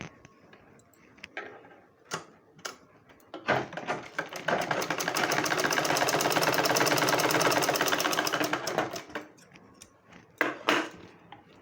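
Close by, a sewing machine stitches pieces of a 34 inch blouse in one sustained run of rapid mechanical ticking and whirring, with scattered handling knocks before and after.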